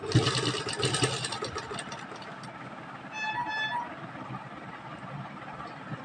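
A sewing machine stitches lace onto the border of a dupatta with a steady, fast mechanical whirr, close and continuous, louder at the start and then settling to an even running hum.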